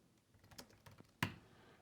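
Keys tapped on a computer keyboard while editing a description in a spreadsheet, a few scattered quiet clicks followed by one sharper, louder keystroke near the end, with no talk.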